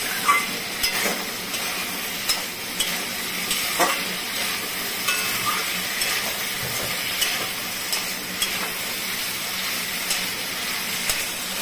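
Gathi kochu taro being stirred and fried with spices in a pan, giving a steady sizzling hiss with soft scraping stir strokes recurring throughout, close and moderately loud with no voices.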